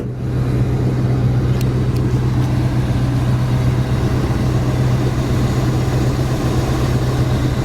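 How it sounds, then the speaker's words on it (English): Light yellow 1966 Ford Mustang coupe, freshly tuned with new plugs, wires, cap and distributor, idles steadily nearby, a loud, even low engine rumble holding without change. "Engine runs great."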